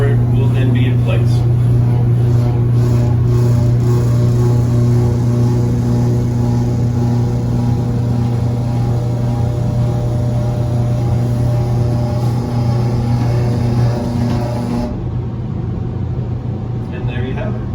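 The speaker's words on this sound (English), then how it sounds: "trailing edges are on 2 linear actuators. They'll wind up and the floor will then be in place" Two linear actuators wind a moving floor into place, producing a steady, loud mechanical motor hum and rumble that runs throughout and shifts near the end, with people talking over it.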